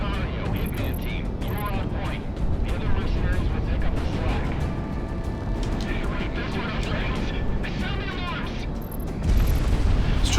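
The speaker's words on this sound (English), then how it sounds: "So let's switch to our gun pods." Gun pods fire during a strafing run in the air-combat video game Project Wingman. Rapid bursts ring out over a continuous roaring jet engine, with booming impacts and a louder blast near the end.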